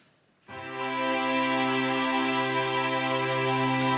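Sustained VST string ensemble chord held steadily for several seconds, each note of the voicing sounding at a slightly different velocity so one tone stands out, entering after a brief quiet start and ringing loud and even.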